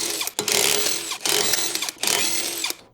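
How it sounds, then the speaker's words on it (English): Power tool with a 19mm deep socket loosening the wheel hub bolts on a 2012-2015 Chevrolet Cruze, close and loud: three whirring bursts separated by brief pauses. "Use a 19mm deep socket to loosen the wheel hub bolts."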